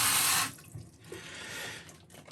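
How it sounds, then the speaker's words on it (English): A bathroom tap runs at a sink during face washing, a loud gush that stops after half a second, followed by quieter splashing and trickling water with no talking. "I'm just adding a little bit more water."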